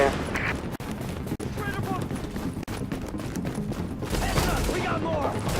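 Gunfire in a firefight from the video game The Division, with dense, continuous shooting and crackling that stays loud for the whole stretch, backed by a steady wash of game ambience.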